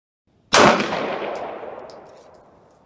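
A single loud shot from a Wilson Combat custom Glock 19 Gen 5 pistol at an outdoor range, 50 yards from target, a sharp crack followed by a long decaying ring, with faint metallic pings afterward.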